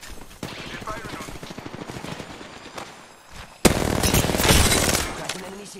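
Rapid automatic gunfire crackles through a hectic online shooter match, a steady stream of shots under a player's voice, then a louder, denser burst of fire toward the end.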